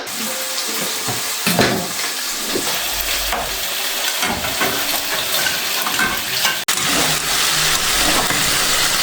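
Pastrama, Romanian cured meat, frying in a pan for lunch in a home kitchen, steady sizzle with clatter of stirring and a running tap, close and continuous with no talk.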